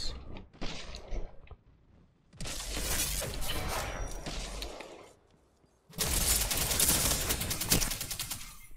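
Sniper rifle gunfire in the Destiny 2 video game: a few sharp shots, then two long, loud stretches of dense, crackling firing and impacts separated by a brief quiet gap, with no talking.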